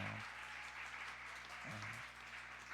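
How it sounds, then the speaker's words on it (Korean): Applause from a church congregation at a Korean young adults' worship service, a steady wash of many hands clapping that carries through the whole stretch with a faint hum underneath. "우리 행정 리더들을 위해서 다시 한번 박수 한번 보내주세요."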